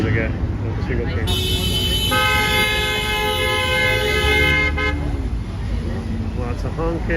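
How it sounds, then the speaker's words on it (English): A long, loud car horn blares for several seconds at a busy downtown Toronto intersection, sounding over a steady wash of traffic noise, with a voice talking faintly underneath. "Lots of honking, lots of stuff going down at Queen Spadina right now."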